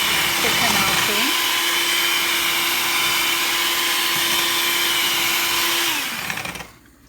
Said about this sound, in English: Now you want to make sure that you don't whisk it too long, because then the cream is going to become too thick.